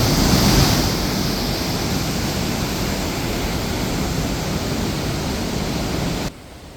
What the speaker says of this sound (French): Cascade.